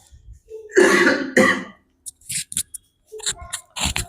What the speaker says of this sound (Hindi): खांसी आ गई